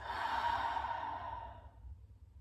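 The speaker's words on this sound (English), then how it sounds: "starting with 3 nice deep breaths, so breathing in through the nose" A slow, deep exhale through the mouth during a relaxation breathing exercise, a soft breathy sigh that fades out over about two seconds, close and quiet with no talking.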